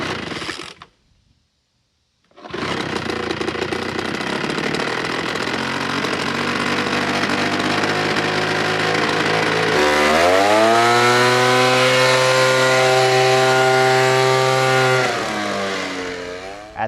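Ryobi gas-powered leaf blower starts after a brief silence, running loud and close with a buzzing two-stroke drone, then revs higher to a sustained whining roar before easing slightly.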